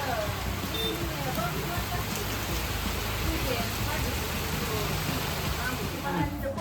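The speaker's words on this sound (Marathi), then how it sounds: "जोरात पाऊस चालू आहे आता" Heavy rain falls in a constant broadband roar, steady and fairly loud throughout, splashing on nearby surfaces.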